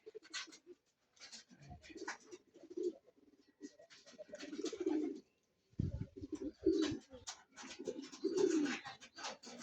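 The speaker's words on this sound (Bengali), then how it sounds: "এই যে আমার কবুতরের লফট" Pigeons coo in a loft, several birds making repeated low throaty rolling calls in bursts with short pauses, fairly close and moderately loud, with no talking.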